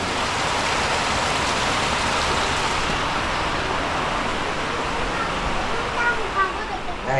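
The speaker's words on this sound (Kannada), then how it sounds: "ಎಷ್ಟು ಜೋರಾಗಿ ಮಳೆ ಬೀಳ್ತಾ ಇದೆ" Heavy rain pours in a dense, steady roar that fills the whole stretch, with a few soft thumps near the end.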